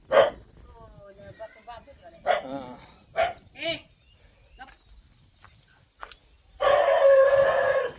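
A dog barks a few times in short separate bursts in a dense Konkan forest near a pond, mixed with people talking nearby and a longer loud call near the end.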